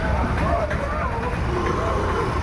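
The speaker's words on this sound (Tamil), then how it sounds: "பயங்கர டிராஃபிக் இது எப்பயுமே அப்படி தான் ஃப்ரெண்ட்ஸ் இருக்குது இந்த இடம்" Heavy road traffic of cars, trucks and buses flows past the Salem V.O.C. fruit market as a continuous dense roar of engines, with voices in the background.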